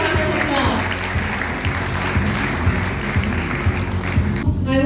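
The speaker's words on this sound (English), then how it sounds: "Please give him a huge round of applause." Audience claps at a school annual concert and prize distribution ceremony, a steady wash of applause under amplified hall sound lasting about five seconds.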